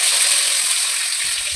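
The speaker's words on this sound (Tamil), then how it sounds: "கருவேப்பிலை ஆட் பண்ணிக்கலாம்" Curry leaves hiss loudly in hot oil with fennel, cinnamon and cloves, a bright, even sizzle that holds for just over a second before a faint low thud, with no speech.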